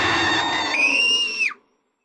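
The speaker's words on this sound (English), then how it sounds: "I love that scream." Scream from the video game The Crooked Man, a single loud, high, sustained shriek lasting about a second and a half that bends downward and cuts off abruptly into silence.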